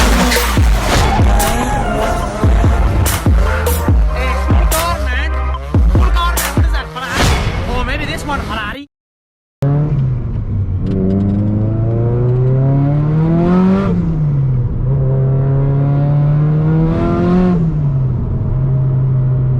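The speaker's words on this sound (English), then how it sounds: "Today we're going to do a little POV driving of the Nissan." A Nissan S15 driven on low boost, heard from the driver's seat: loud engine revving and rising, falling acceleration sweeps, with a brief cutout partway through and a steady drone afterward, no talking.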